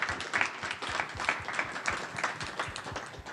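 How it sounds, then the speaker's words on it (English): A small audience at a seminar celebrating Black culture claps for the spoken word and poetry performers, a modest, uneven patter of individual hands close by. "Let's give a round of applause for all the spoken word and poetry."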